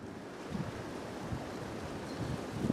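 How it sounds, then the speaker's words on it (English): Strong, relentless wind blows outdoors at a camp in late November, a steady broadband roar buffeting the microphone, with gusts building louder toward the end and no talking. "This wind has been relentless. You think it's going to die down and it picks up."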